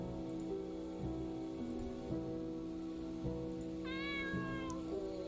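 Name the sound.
cat meowing in a video game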